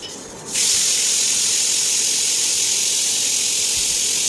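Samosas deep-frying in a pan of hot oil, a loud, steady hiss that bursts in after a brief quieter moment and holds evenly throughout.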